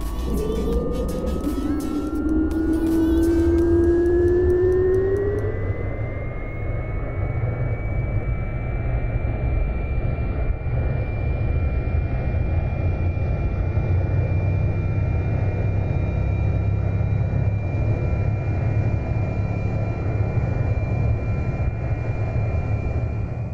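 A light aircraft engine idles at low power in the X-Plane 11 flight simulator: a steady, moderately loud drone with a rising whine early on that settles into a constant hum.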